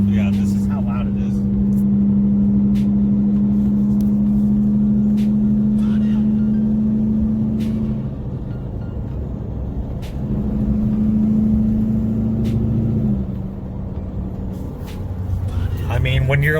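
A Duramax diesel truck engine drones loud and steady at 1500-1700 RPM under load, a deep constant hum that eases slightly partway through before swelling again, with no other sound on top.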